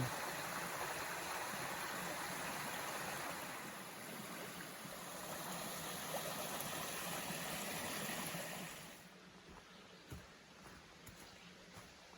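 Steady broadband rush of flowing water, a tiny waterfall splashing continuously nearby, then easing to a softer trickle near the end.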